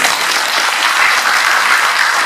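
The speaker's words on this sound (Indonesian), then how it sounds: "Tepuk tangan dulu untuk BTBS" Audience applause at an Islamic sharia business seminar in Pekanbaru, Riau: steady, dense clapping from a large crowd filling the room, loud and continuous throughout.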